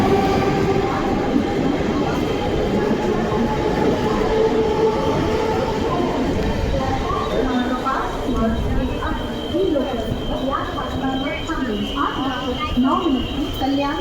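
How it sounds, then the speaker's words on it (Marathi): A Mumbai local train rolls along with steady wheel rumble and rattling carriages, heard from on board, while people talk throughout over the noise. "मुंबई लोकल"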